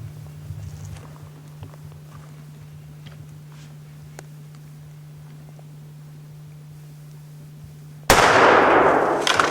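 A hunter's rifle fires with the muzzle inches from a man's ear: a single sudden, very loud shot cracks out near the end after several seconds of quiet outdoor ambience with a steady low hum.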